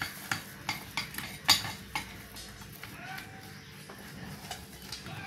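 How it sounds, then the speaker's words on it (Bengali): Chopped onion tipped into a pan of meat with ginger and garlic paste, then stirred: a series of close scraping, clinking utensil strokes over a faint sizzle, no voices. "পেঁয়াজ কুচিটা দিয়ে দেবো।"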